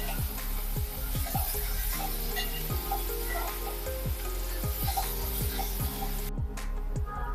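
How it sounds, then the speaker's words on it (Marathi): Dried shrimp and onions sizzle in a pan over a full gas flame, a steady close frying hiss broken by repeated scraping stir strokes, with no voices; the sound thins abruptly near the end. "आता आपल्याला कांद्यासोबतच सुकट दोन ते तीन मिनिटासाठी फुल गॅसवरती चांगली परतून घ्यायची आहे"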